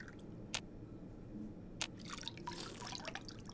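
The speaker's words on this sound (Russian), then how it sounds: "Давайте с раковины запьем." Drinking water from a sink in Fallout New Vegas: two sharp splashy drips followed by a burst of wet gulping and trickling, quiet and close, over faint background hum.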